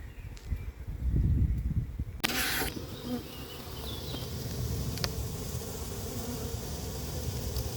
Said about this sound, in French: Je vais pouvoir descendre le carton et récupérer l'essaim.